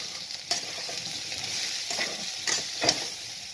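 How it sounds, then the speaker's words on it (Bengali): Cumin and chilli powder sizzle and hiss in a frying pan as they are stirred, a steady bright crackle with a few sharp scrapes of the spoon against the pan, close and alone. "সামান্য জিরে পাউডার তারপর লঙ্কা পাউডার সমস্ত নাড়াচাড়া করে"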